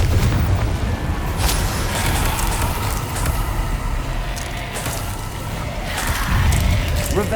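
Confringo fire-spell blasts in the Hogwarts Legacy PS5 game, in the Witch's Tomb, make a continuous stretch of booming explosions and crackling bursts.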